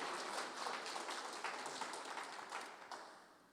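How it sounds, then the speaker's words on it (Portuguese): A church congregation applauds together in a dense, fairly quiet wash of clapping that slowly fades toward the end. "E vamos aplaudir o Senhor, porque Ele está neste lugar"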